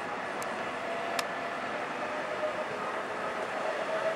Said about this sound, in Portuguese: Olha o trem passando.